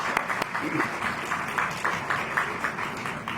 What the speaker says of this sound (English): There should be applause for that.